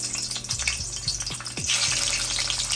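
Crushed garlic and Scotch bonnet pepper hit hot oil, bursting into a loud, close sizzle that swells into a steady frying hiss with a few bubbling pops.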